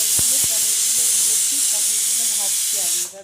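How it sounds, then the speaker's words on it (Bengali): A pressure cooker boiling peas on the stove lets out a loud, continuous steam hiss that cuts off abruptly near the end, with faint voice-like tones underneath. "এদিকে প্রেসার কুকারে মটরটা সিদ্ধ হচ্ছে"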